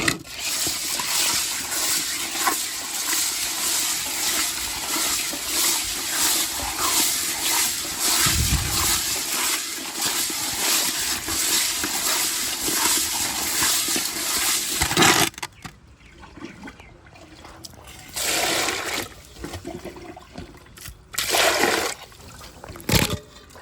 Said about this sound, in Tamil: இப்போ உப்பு போட்டு இறைச்சி கழுவ போகிறோம் கல்லுப்பு போட்டு